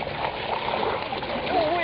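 Dogs swim in open water, splashing steadily with a gurgling, continuous wash of water close by, with a brief whistle-like tone near the end.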